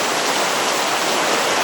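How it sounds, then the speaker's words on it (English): Torrential rain pours off a roof during a thunderstorm, a dense, steady broadband wash of water that stays loud and constant throughout with no talk. "The rain started about 3/4 of an hour after we got back. It's pretty torrential"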